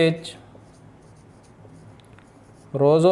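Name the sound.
writing numbers on a board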